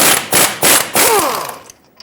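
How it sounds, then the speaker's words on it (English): Ratchet wrench with a 21mm socket loosening the tie rod stud nut at the steering knuckle of a 2007-2014 Chevrolet Silverado 2500 HD: three close, loud bursts of rapid clicking, then a slower fading ratchet and a faint tap. "Take a 21mm socket, remove the nut that holds the tie rod stud through the knuckle."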